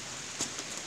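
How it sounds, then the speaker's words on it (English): Rain falls steadily in a yard during Hurricane Irma, a constant wet hiss with a couple of brief louder spatters or drops close by, with no voices. "I keep covering up the lens because of the rain."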